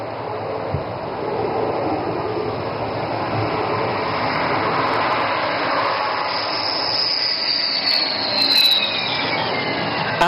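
A Rafale fighter jet comes in to land on an emergency landing strip during an air force show, its engine a steady broad roar with a high whine, fairly close and continuous, swelling slightly near the end.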